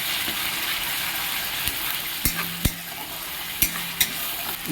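Masala for an egg curry stirred and fried in a pan, a steady sizzle under scattered scraping clicks and knocks from the spoon against the pan.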